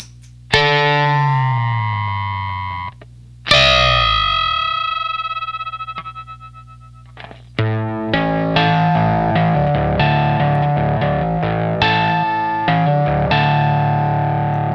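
Guitar double stops run through a Zvex Jonny Octave pedal, producing thick, warbling, slightly detuned tones; long ringing strums give way to a busier passage of repeated chords, loud and clear.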